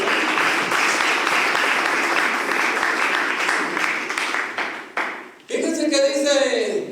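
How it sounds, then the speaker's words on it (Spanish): A church congregation breaks into loud, sustained applause that fades briefly, then gives way to a voice speaking over music near the end. "Damos unos buenas palmas, Señor."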